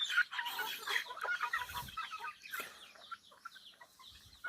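A flock of chickens clucks and chatters up close, with rustling and pecking noises as they eat fermented banana trunk feed.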